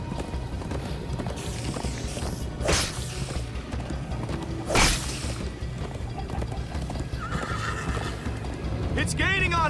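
Galloping horses in the Minecraft: Story Mode video game keep up a continuous drumming of hooves, with sharp whooshing bursts and a rising neigh near the end, while characters talk over the chase.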